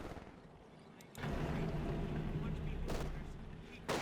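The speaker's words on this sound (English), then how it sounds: "shots fly from the Grens and stormtroopers and in the MGs" Company of Heroes 2 gunfire from rifles and machine guns crackles in a dense, sustained rattle of shots, with sharper bursts near the start and end, set behind a busy battlefield rumble.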